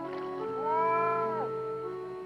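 A bobcat in a swamp gives a drawn-out, rising and falling meow-like yowl lasting about a second, loud and close, with quieter tonal sound before and after.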